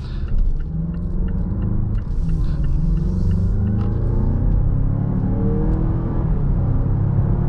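A 2023 Mazda CX-9 SUV drives on the road, heard from inside as a steady low engine rumble and road whir that stays even and loud throughout.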